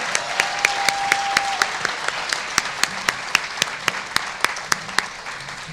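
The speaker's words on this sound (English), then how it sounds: "Let's give him another round of applause." An audience at a bicentenary celebration gives a round of steady, evenly paced applause that continues throughout, with crisp individual claps standing out and no talking over it.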